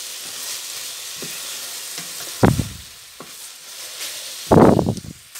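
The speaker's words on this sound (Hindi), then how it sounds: "तो यहाँ सब्ज़ मिर्चें भी डाल देंगे ताकि ये भी साथ भून जाए" Green chilies frying with okra and onion masala in a pan, a steady soft sizzle broken by two loud stirring bursts, close and with no talking.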